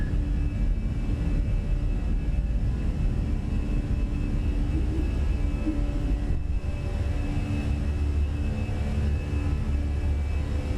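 Airbus A320 (Fenix) climbing out after takeoff from JFK in Microsoft Flight Simulator 2020, a loud continuous engine roar and rumble with a steady drone, unbroken and without talk.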